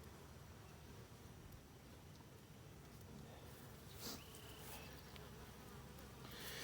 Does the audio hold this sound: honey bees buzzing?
yes